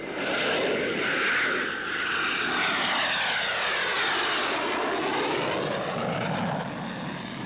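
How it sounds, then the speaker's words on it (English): An early powered propeller airplane, like the Wright brothers' craft at Kitty Hawk, drones loudly in flight, its engine tone shifting and sweeping as it passes, with no talk over it. "Orville and Wilbur Wright made man's first 4 controlled flights in a powered airplane"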